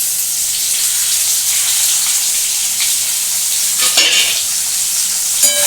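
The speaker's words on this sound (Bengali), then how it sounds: "এটা এখন আমি একটু ভালো করে ভাজবো।" Potato and onion pieces fry loudly in a pan, a constant close sizzle broken by a few scraping stirs of the spatula near the end.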